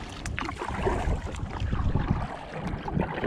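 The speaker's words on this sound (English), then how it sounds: "Not supposed to be any wind today, and yet here it is blowing at least 10 miles per hour out of the east." Wind blowing at about 10 mph across a pond while kayaking, producing a steady rushing buffet close to the microphone, mixed with faint water and boat sounds and no talking.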